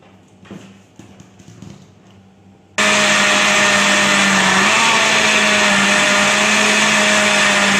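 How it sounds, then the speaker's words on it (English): A blender blending mangoes and sugar for mango ice cream starts abruptly after a few quiet seconds of faint handling noise, then runs as a loud, steady, close whirring roar until the end. "we'll put our three items in blender and we'll blend it very smoothly"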